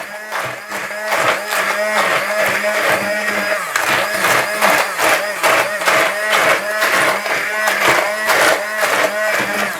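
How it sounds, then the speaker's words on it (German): A hand-held immersion blender whirs through Maultaschen filling in a pot, its motor pulsing in a rapid, uneven rhythm with sharp scraping clatters, loud and close throughout. "So, und jetzt mixen wir das hier alles in dem Topf."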